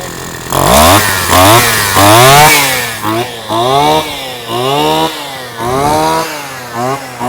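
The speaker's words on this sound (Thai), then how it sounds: "เอาลองสตาร์ทดู เปิดน้ำมัน เนี่ยเสียงเงียบนะครับ สตาร์ทติดง่าย" A small two-stroke engine of a brush cutter runs close by, its buzzing whine revving up and down repeatedly throughout.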